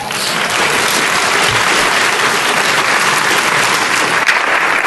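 Sustained loud applause from a large audience at a Nevada State of the State address, dense steady clapping filling the whole stretch without pause.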